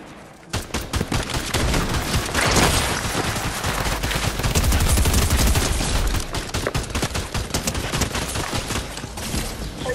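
Dense, rapid Fortnite gunfire crackles almost continuously, with overlapping bursts of shots, loud and close, with a heavier low rumble in the middle.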